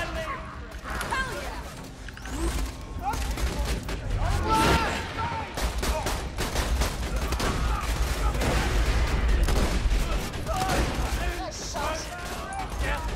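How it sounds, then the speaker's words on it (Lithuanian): A gun turret fires in the video game Borderlands 2, a barrage of rapid shots and booms under game music, with players talking over the action. "Na, šito patranko už mane taikliau šaudo"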